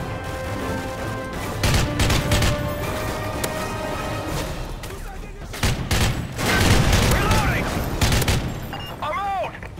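Sustained automatic weapon fire in Call of Duty: Modern Warfare 3, loud rattling volleys with scattered single shots and impacts, continuing throughout while a voice talks over the battle.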